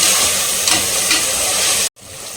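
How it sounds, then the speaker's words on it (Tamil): Tomatoes sauté in a hot pan for a mutton-style brinjal and field bean gravy, giving a loud, steady sizzling hiss close by. It cuts off abruptly near the end, then resumes more quietly. "இது வந்து பார்த்தீங்கன்னா தக்காளி சேர்க்கும் போது நல்லா இதை வதக்கலாம்"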